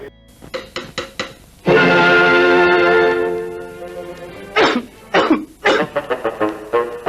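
A series of sharp coughs, then a long strained throat-clearing rasp, followed by more bursts of coughing, close and loud.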